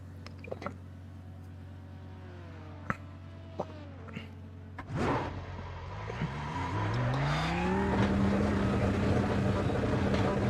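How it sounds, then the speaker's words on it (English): A race car engine in an IMSA sim race at Circuit Gilles Villeneuve, droning in low harmonic tones with a few sharp clicks, then surging and revving upward in rising sweeps that grow louder and rougher toward the end. "he's going to blow the engine up if he keeps revving it."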